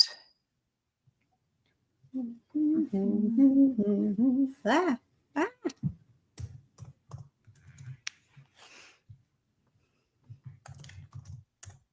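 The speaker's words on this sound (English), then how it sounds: "Can you hear me typing?" Bursts of quick keyboard typing, clicky and close, come in short runs after a person speaks; pauses separate the flurries of keystrokes.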